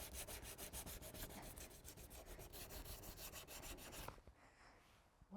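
Coarse sandpaper rubbed rhythmically against the bumper of a BMW E46, quick back-and-forth scratchy strokes up close, stopping abruptly near the end with a faint knock.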